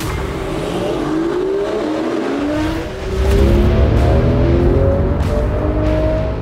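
Porsche 996.1 GT3 with the Mezger flat-six engine revving hard, rising pitch sweeps as it climbs through revs, then a louder, fuller surge of engine roar, close and dominant with no talk.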